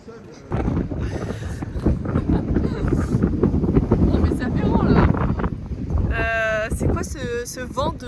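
Strong wind buffets the microphone in loud, rough gusts while people talk over it.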